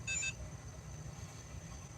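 Beeping from an RC radio transmitter: a brief burst of bright, high-pitched electronic tones near the start, then only a low background hum.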